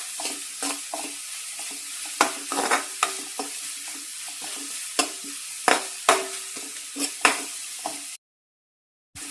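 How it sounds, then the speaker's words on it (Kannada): Finely chopped onions sizzle in a pan for a Coorg-style pork liver fry, with a steady soft frying hiss and repeated sharp knocks of a spatula stirring against the pan, close and alone before falling silent. "ಸಣ್ಣದಾಗಿ ಹೆಚ್ಕೊಂಡಿರೋ ಈರುಳ್ಳಿನ ಹಾಕೋತಾ ಇದ್ದೀನಿ. ಇದನ್ನ ಸ್ವಲ್ಪ ಫ್ರೈ ಮಾಡ್ಕೋಬೇಕು."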